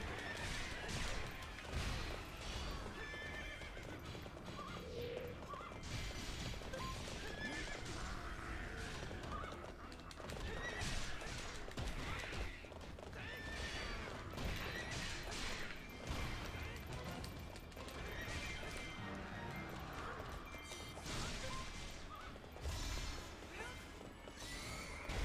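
Horse neighing and stomping in the Hyrule Warriors video game, with whinnies and heavy hoof impacts heard amid dense, constant battle noise and clashes, under a person talking.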